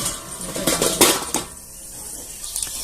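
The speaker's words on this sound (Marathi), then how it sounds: "ढोकळा आपण इथे परतीत काढून घेऊया" Steamed dhokla made from rice flour and besan is turned out onto a plate, with loud close clatters and scrapes of metal utensils and plate, a few sharp knocks, then quieter handling.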